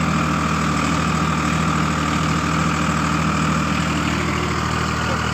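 Farmtrac 60 tractor engine runs steadily in a field while pulling a super seeder, a loud, even diesel drone with a constant low throb and no pauses or speech.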